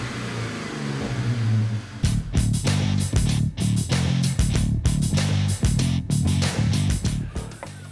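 A truck engine fitted with a new air filter revs in a series of sharp, repeated blips, each rising quickly and cutting off, close and loud after a steady idle.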